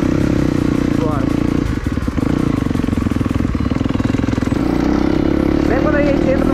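A dirt bike engine runs loudly and close at a motocross track, droning and revving steadily with a brief dip, while people speak over it.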